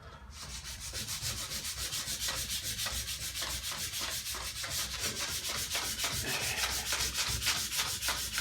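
An orbital sander whirs steadily with a rhythmic scratching buzz as it grinds across the roof of a 1964 Mk1 Mini, close and continuous with no talking.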